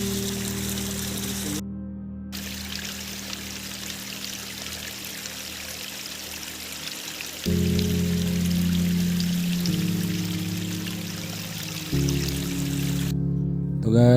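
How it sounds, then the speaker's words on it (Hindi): Water pours from an old pipe into containers outdoors on a mountain trail expedition, a steady trickling stream with a deeper filling tone that shifts as vessels change, continuous and near, with no talk. "ये पानी भर रहे हैं हम।"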